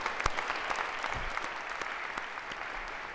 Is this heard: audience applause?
yes